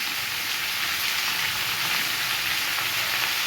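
Fried rice sizzling steadily in a hot pan, a loud, even, continuous hiss heard close up, with no voices.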